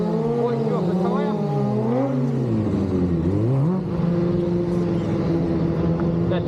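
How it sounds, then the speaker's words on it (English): At a 2024 Scottish bike show, a motorbike spins its rear wheel, the engine revving loudly in rising and falling sweeps under a commentator's voice. "Spin to the back wheel to get the moisture off the tyre"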